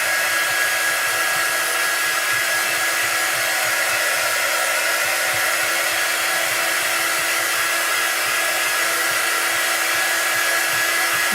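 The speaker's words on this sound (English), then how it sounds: "All right, let's get that dry. I just have a 3-foot dryer" A handheld hair dryer blows steadily and loudly at close range over chalk artwork, a continuous even whoosh with a faint high whine that runs unbroken for the whole stretch, with no talking.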